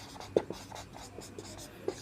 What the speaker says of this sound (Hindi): मैं इसे ट्रिक को लिख देता हूँ।